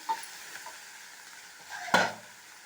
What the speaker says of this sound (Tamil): இப்போது இது நல்லா நான் 2-3 தடவை கிளறி விட்டுட்டேன்